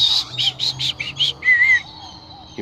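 A person whistling an imitation of birdsong, a run of short bright chirps followed by a longer drawn-out note, close and fairly loud with no other voice.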